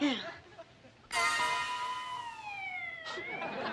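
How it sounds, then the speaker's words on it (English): An ambulance siren starts abruptly and wails for a couple of seconds with a slowly falling pitch, then restarts briefly, fairly close and clear. "Here comes Dr. Stockman with the ambulance"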